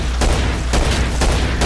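Rapid bursts of gunfire in the zombie shooter Killing Floor, fighting in a shopping center, with about four loud broadband shots spaced through the stretch over a steady low game rumble.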